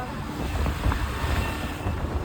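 A fishing boat's engine runs at full power out at sea, a steady, loud low rumble with wind and water noise layered over it and no voices.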